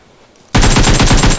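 Loud, close gunfire erupts in the PUBG Mobile video game after a quiet moment, a fast continuous burst of automatic shots with no voices over it.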